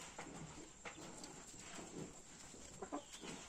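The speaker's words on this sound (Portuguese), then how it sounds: "Aqui as galinhas se escapulam e comem." Chickens roaming loose on a small rural farm plot, with soft clucks and bird calls scattered through steady outdoor background noise, moderately near and fairly quiet, with no talking.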